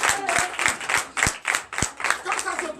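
Congregation clapping in acclamation during a Sunday church worship service in Benin, with a strong rhythmic beat of loud, near claps over a murmur of voices.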